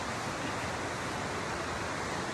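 Water flows steadily in a forest setting, a loud, even broadband rush that holds without a break, close to the microphone and with no voices over it.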